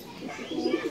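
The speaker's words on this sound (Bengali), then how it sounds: "এটা শৈলী কবুতর।" A Shoili pigeon coos once, soft and low, in a short close burst from a pigeon loft kept on a house rooftop.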